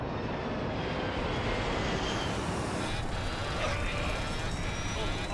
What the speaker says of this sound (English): The plane is diving towards the sea.